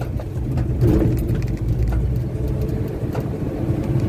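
A 1965 Chevy truck pulls away without the accelerator, its low engine rumbling steadily and close. Faint clicks and rattles sit above the rumble, with no talking.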